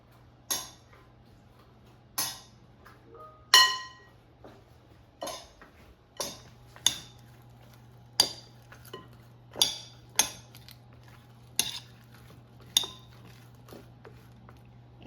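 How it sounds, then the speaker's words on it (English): Banana peppers tossed with oil and seasonings in a bowl give off sharp, intermittent clinks and knocks of utensil against the dish, about a dozen separate hits spaced a second or two apart under a faint steady hum. "And now toss so they're coated with oil and seasonings."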